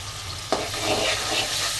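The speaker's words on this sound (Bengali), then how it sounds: "আমি সবসময় চিংড়ি মাছটা একটু ভেজে নিই।" Prawns and chopped onion frying in oil in a pot, a loud close sizzle with one sharp stir or clatter near the start, then even frying, no voices.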